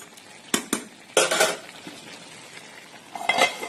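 A metal lid is set onto a cooking pot of boiling banana flower, giving a few close, sharp clanks and rattles with quiet gaps between them.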